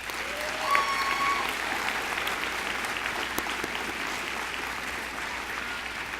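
Large audience at a university commencement ceremony giving sustained applause, a dense, even wash of clapping across the whole stretch, with a brief tonal whistle or squeal near the start.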